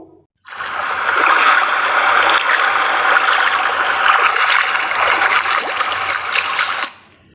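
Footsteps wade through water, producing a loud, continuous sloshing and splashing that starts abruptly, runs for about six seconds and then stops, with no voices.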